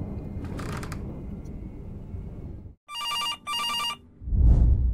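A telephone in the horror game September 7th rings in two loud, electronic bell-like bursts, following a stretch of dull rumbling ambience and ending with a low thud.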